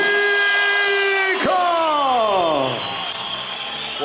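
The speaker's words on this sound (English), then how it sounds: "the crowd here in Jordan showing their appreciation" A crowd at a Cage Warriors MMA fight night in Jordan roars and cheers after a first-round armbar submission win, a sustained loud swell of whoops and yells that slowly fades.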